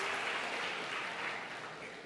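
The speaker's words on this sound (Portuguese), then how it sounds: "palmas para o Lucas, então, gente" An audience applauds a volunteer during a church sermon, a short burst of steady, fairly quiet clapping from the congregation with no talking over it.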